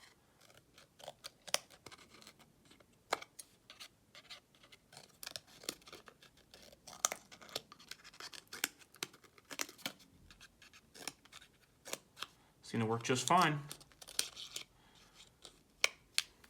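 Gerber Dime mini multi-tool spring scissors snip through thick cardstock paper in a string of sharp, crisp clicks and cuts, with one longer rasping cut near the end and someone speaking briefly.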